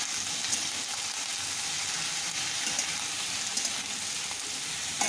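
Ridge gourd frying with onions in a pan, a continuous close hiss and crackle at an even level, with faint stirring beneath and no speech.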